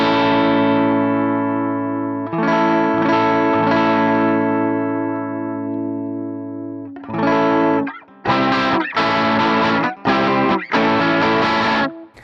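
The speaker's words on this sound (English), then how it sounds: "Now I can add progressively the bridge pickup alone." Stratocaster electric guitar on the bridge pickup alone, with effects and some distortion: a long ringing chord decays, a second strum sustains, then a series of short choppy stabs follow with brief gaps.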